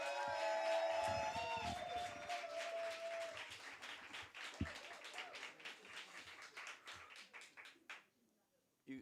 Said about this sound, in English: we need to do big round of applause